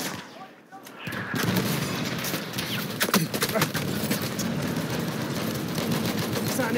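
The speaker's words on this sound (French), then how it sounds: "Artillerie lourde, vraiment." Heavy artillery and gunfire from a Battlefield 1 conquest match, with booming impacts and scattered shots rolling continuously at close range. Voices speak in French over the battle.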